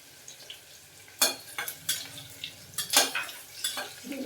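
Curry leaves frying in a pan for tomato rice, with a soft sizzle under a run of bright metallic stirring clinks and scrapes, close and fairly quiet, with no one speaking.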